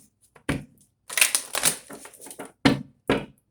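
Tarot cards are shuffled in several short, crisp bursts of riffling and rustling, separated by brief pauses.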